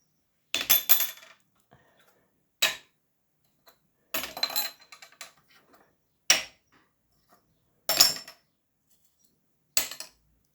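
Beer bottle caps strike one another in a cap-flicking competition, with sharp clicky impacts in about six separate clusters, some single taps and some quick rattling runs, each separated by near silence.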